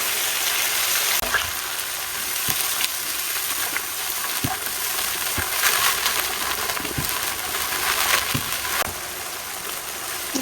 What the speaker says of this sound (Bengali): বাদাম, নারকেল ও আদা রসুনের পেস্টগুলো একটু কষানো হয়ে গেলে